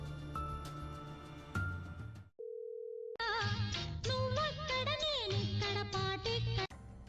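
A phone call being placed: a short steady tone sits alone between stretches of background music, cut off abruptly as the melodic score returns.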